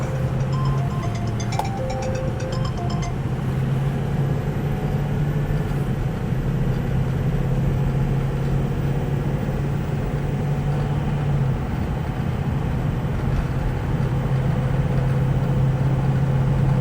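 Steady drone of a 2004 Ford Excursion Limited with a 6.0L Powerstroke diesel, heard from inside the cab while driving, with faint changes in engine pitch as it moves through its gears.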